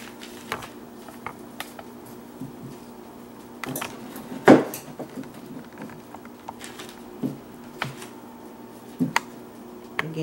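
Knife slicing a seed potato for planting, a few soft scattered taps and cuts, one sharper thunk of the blade meeting the board, faint and close.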